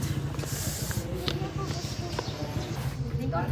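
Steady hoof clip-clops of a horse on hard ground, a quick regular rhythm close by, heard under lively chatter from people nearby.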